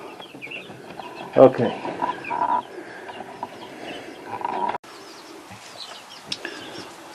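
Roosters and chickens cluck and call in a coop, scattered bursts near and far, with a person speaking briefly over them.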